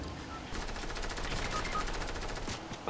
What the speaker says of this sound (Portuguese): O tiro tá comendo pra caramba, mano.